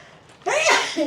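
One loud sneeze close by, a quick in-breath followed by a sharp burst.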